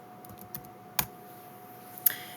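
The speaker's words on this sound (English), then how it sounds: "So I'll type toy box into the search bar." Someone types a short search term on a computer keyboard: a few sparse, quiet key clicks spread over two seconds against a faint background hum.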